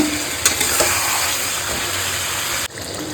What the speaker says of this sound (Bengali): দুটো টমেটো দিয়ে এবার সমস্ত কিছু ভালো করে একটু কষাবো হিট হাই রাখবো